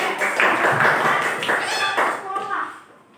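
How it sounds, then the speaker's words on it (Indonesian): Schoolchildren in an Indonesian classroom clap their hands together in a dense, steady burst of applause that fades near the end, with young voices mixed in. "Oke, tepuk tangan dulu."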